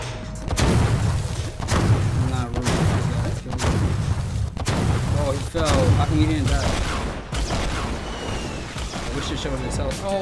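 Repeated gunfire from the video game Fortnite, bursts of shots and booms recurring across the stretch while a player talks over them nearly throughout.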